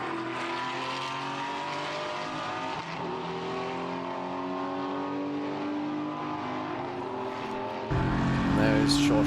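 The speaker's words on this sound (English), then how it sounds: "It's a wonderful flat 6 symphony that we have here in Spielberg at the moment." Porsche flat-six race cars roar at the Red Bull Ring in Spielberg during a Porsche Sports Cup Suisse race. A loud, sustained, layered engine howl continues throughout and swells louder near the end as a car closes in.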